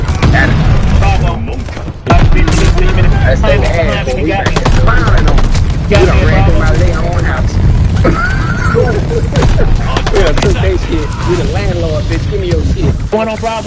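Rapid gunfire in the World War II shooter Call of Duty: Vanguard, loud bursts of shots packed closely together, with a voice talking over much of the firing.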